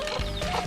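Chickens cluck close by in a rural yard, short repeated clucks over a steady bed of background noise.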